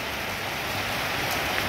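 Hard rain keeps falling on a trek up Kaldurg Fort, a steady broadband wash of drops hitting the ground and foliage nearby, continuous and without talk.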